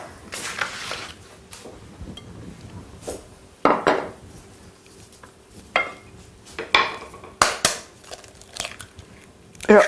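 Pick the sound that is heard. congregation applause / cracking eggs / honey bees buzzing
cracking eggs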